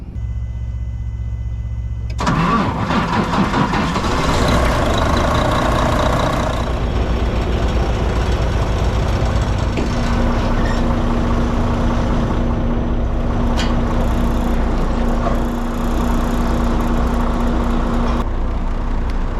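A truck engine cranks and catches after a moment of near silence, then settles into a loud, steady rumbling idle that continues to the end without speech.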